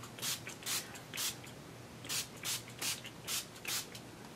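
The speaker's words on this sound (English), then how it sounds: "I'm going to move things out of the way and spritz my palette" A handheld spray bottle spritzes a watercolor palette with about eight short, airy hissing bursts in a fairly regular rhythm, close and soft, with brief quiet gaps between pumps.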